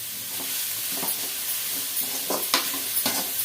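Carrot stir fry sizzling steadily in a pan with salt added, a continuous frying hiss broken by several soft stirring scrapes, close and alone without talk.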